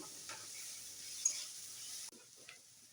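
Onions frying in a pan, a faint steady hiss of sizzling with a couple of soft stirring clicks, the sizzle dropping quieter partway through.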